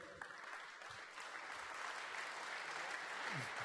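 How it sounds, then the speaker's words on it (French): Audience at a sailing championship awards ceremony applauds a guest being invited on stage, a dense, steady clapping wash that swells slightly and continues throughout, with faint speech underneath. "un applaudissement pour André Georges"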